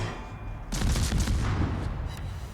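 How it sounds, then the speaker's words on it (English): Naval gunfire from a World of Warships ship firing HE shells at the Renown: a loud salvo of several rapid booming shots arrives after a quieter stretch, then fades, no talking. "We can shoot the Renown with HE, hopefully get a fire."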